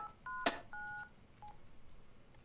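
Telephone keypad tones from the video game Dr. Langeskov, several short dual-tone beeps pressed in quick uneven succession, clear and close against a quiet background.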